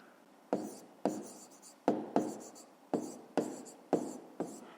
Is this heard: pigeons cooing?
no